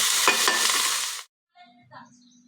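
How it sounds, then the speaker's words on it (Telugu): Loud sizzling and scraping as chilli idli is stirred with sauces in a hot pan, ending abruptly and followed by faint quiet noises. "సాసులు కలిసేలాగా కలుపుకోవాలి"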